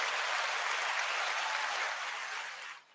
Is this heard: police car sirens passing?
no